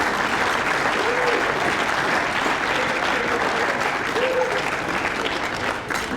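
Sustained applause from a large audience at an Australian football league medal presentation night, steady and fairly loud throughout, with no clear gaps.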